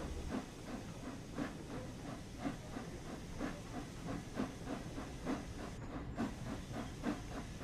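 The Flying Scotsman steam locomotive in Train Sim World 4 chuffs steadily, each rhythmic hissing exhaust beat repeating about twice per second over a constant steam hiss, fairly quiet and with no talking.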